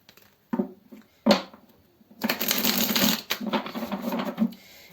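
Tarot cards are shuffled and handled for a Scorpio horoscope reading, with a few separate soft taps and flicks, then a longer burst of rapid riffling and sliding close up, with no voices.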